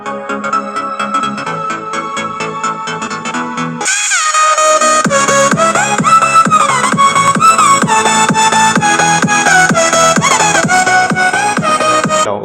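Copyright-free electronic music plays loud and full through a Woos W-01 mini home theater speaker, a dense synth track that drops briefly before surging back with a heavier beat.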